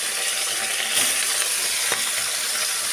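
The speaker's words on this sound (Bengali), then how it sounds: "মাছগুলো হচ্ছে অল্প তেলের মধ্যে ভাজতে হয়" Sea fish frying in a little oil, four pieces in the pan, giving a continuous moderate sizzle with a few soft crackles and no other sound.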